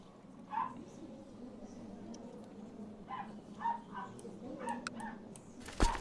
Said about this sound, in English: And my dogs are outside barking.